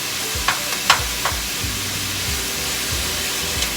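Ground beef browns in a hot pan, a steady moderate sizzle with a few sharp scrapes and taps of a utensil early on, no voices.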